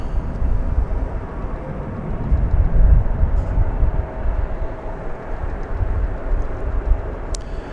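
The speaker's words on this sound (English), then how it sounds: "That was Flight 1679 arriving from Phoenix, Arizona, Airbus A321neo." An American Airlines Airbus A321neo arriving at DFW airport at night gives a steady, rumbling low roar with broadband jet noise that swells in the middle and eases slightly, heard from a distance with no talk.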